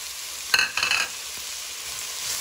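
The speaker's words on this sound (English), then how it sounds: "go ahead and give that a complete mix" Celery and other vegetables for a spicy mushroom soup are mixed in a pot, with a short burst of scraping and clatter over a soft steady sizzle that carries on alone afterward.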